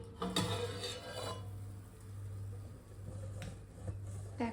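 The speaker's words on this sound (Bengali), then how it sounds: "এবার আমরা একটু ঢাকনাটা খুলে দেখে নিই" A metal lid lifts off a kadai where an eggless chocolate cake is cooking, giving a couple of brief clanks and scrapes of metal against metal over a steady low hum.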